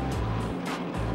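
The 12-cylinder diesel engine of an Akatsiya self-propelled howitzer, nearly 39 litres, gives a loud, close, steady rumble with a pulsing low drone that dips and returns.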